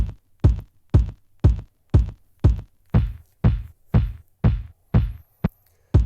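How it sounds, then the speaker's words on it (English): A punchy Roland TR-8S drum machine kick drum thumps steadily on every beat, about eleven hits at 127 beats per minute for tech house, dry and alone with short decays. "So we choose the bass drum and go through first the bass drum 1, 5, 9 and 13"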